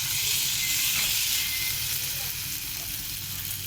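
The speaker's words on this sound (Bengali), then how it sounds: "একটু নেড়ে চেড়ে দেওয়া হলো" Fried okra and potatoes with salt and turmeric sizzling in a pan as they are stirred, a loud, steady close sizzle with faint scraping, no talk.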